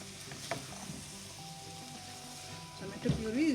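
Masala and vegetables fry in hot oil for a Bangalorean-style vegetable khurma, giving a steady close sizzle with light clinks and a louder stir near the end.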